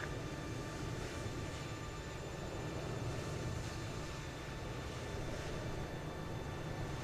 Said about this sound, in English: Might see Rob's plane pass there, I think.